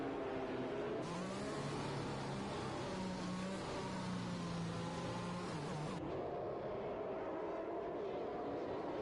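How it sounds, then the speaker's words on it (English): Formula One race car from F1 2021 at the Singapore circuit, engine revving hard in a sustained, buzzing roar during burnouts, loud and close, then dropping off abruptly near the end. "You can see he's doing a few burnouts there."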